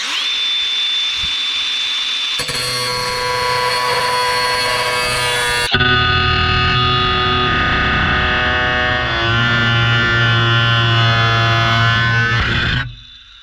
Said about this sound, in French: L'étape suivante, c'est que j'ai ma cornière. Il faut que je la découpe à 45 pour faire des